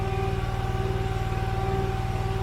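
A Wolfe Ridge 35 SHO model engine runs steadily at low throttle, a close, even, rapid low-pitched pulsing drone with a sustained whine and no talk.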